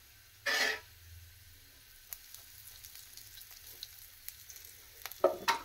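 Asafoetida tempering dropped into hot oil, giving a brief loud sizzle burst near the start, then faint crackles and light kitchen clatter before a second short sizzle at the end.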